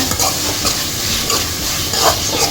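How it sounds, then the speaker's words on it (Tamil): Ginger garlic paste sautés in a hot pan for a chicken curry, giving a steady, loud sizzle with scraping stirring throughout and no voices. "2 ஸ்பூன் இஞ்சி பூண்டு பேஸ்ட்டு அதையும் சேர்த்து நல்லா இந்த மாதிரி அந்த பச்சை வாசனை போகிறதுக்கு வதக்கி விட்டுருங்க."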